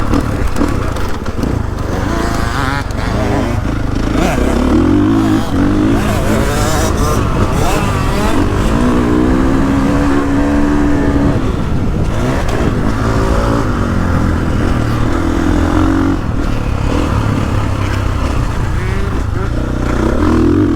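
A KTM 450SXF Full Factory Edition dirt bike ridden by a kid, its engine droning and revving up and down at moderate distance, with a voice talking over part of the ride.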